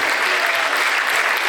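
Loud, sustained applause from an audience at a 2023 International Nurses Week ceremony, dense clapping filling the whole moment at an even level with no pause.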